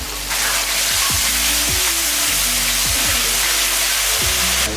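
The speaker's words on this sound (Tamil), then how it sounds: "பாருங்க தக்காளி வந்து நல்லா வதங்கட்டும்" Chopped tomatoes and onions fry in hot oil in a pan, giving a steady, loud hiss and sizzle that runs unbroken from start to finish with no talk.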